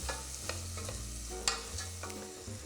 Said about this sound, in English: So I'm going to put this in and let it saute.